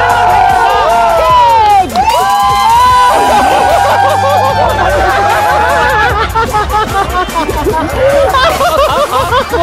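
An excited crowd at a 30-million-subscriber celebration cheers and shouts, with children's voices and high whoops over busy chatter. Clapping is not clearly picked out.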